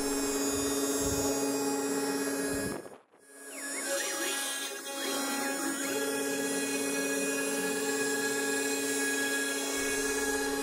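A CNC machine mills a climbing hangboard at a fast feed with a fine step-over, a constant high whining spindle tone with a droning hum, briefly cutting out before resuming steady and loud.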